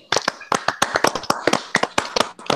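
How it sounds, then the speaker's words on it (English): Applause during a live online awards show, a short burst of sharp, close hand claps in an uneven rhythm, loud and dry, with no crowd wash behind it. "Applause, applause, applause."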